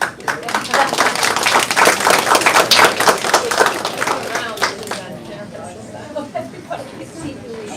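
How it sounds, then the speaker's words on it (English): Board meeting attendees clap for a newly approved CFO, a dense burst of close hand claps peaking then thinning to scattered claps, with room chatter underneath. "Well, we can applaud for him"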